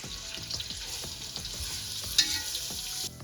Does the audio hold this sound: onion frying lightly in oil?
yes